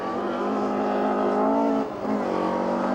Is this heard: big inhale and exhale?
no